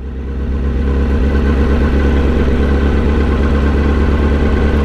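A motorcycle engine chugs slowly in first gear at about 25 km/h through a road construction zone, a steady low rumble that stays loud and close throughout, with no talk over it.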